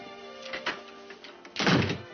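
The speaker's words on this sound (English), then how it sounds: "why don't you shut the door?" A door thuds shut with a dull, solid knock, preceded by faint creaks and bumps, set against a quiet indoor backdrop and soft background music.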